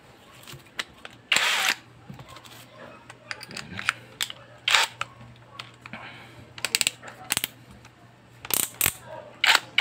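A Lotus Cx 20v brushless impact drill drives a large bolt into poured concrete post, heard as several loud bursts of hammering impact separated by pauses, close by, with a steady low hum underneath.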